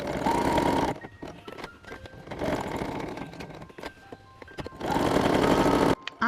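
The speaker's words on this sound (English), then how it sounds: "You're going to go along that edge with a stitch, you're going to sew down there, go across and then up the top there." A sewing machine top-stitches along the edge of a fabric hanging scissors holder, running in steady motor bursts at the start, middle and end, separated by brief quieter pauses.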